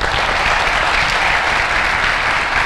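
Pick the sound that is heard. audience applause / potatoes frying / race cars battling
audience applause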